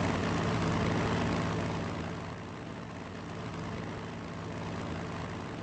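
A tactical bomber's engine drone in a Strategic Mind: Blitzkrieg battle over France, a steady low rumbling hum that is louder at first, then eases slightly and holds.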